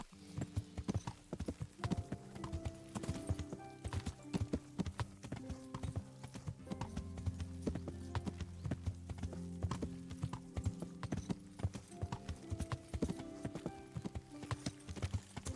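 Horse hooves clip-clop steadily in a medieval game, a continuous rapid trotting rhythm with tack jingling, quiet and even throughout, with faint background music.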